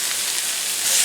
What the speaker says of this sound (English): I'm going to cut to the sizzle here.